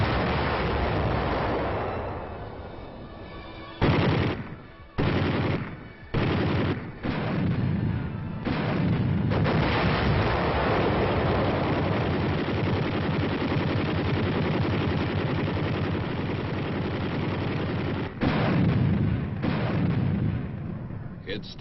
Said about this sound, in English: It opened with the biggest barrage since the start of the war.